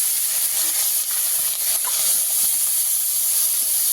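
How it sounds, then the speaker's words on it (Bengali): Small pond fish fry in hot oil with a steady, bright hiss that holds at an even level from start to finish, with faint scattered crackles underneath. "এখানে যে মাছটা রেখেছিলাম সেটাকে ভেজে নেব"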